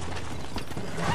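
A horse being broken in within the video game Red Dead Redemption, heard as a short burst of scrabbling hoof clatter and mechanical rattling, dense and close.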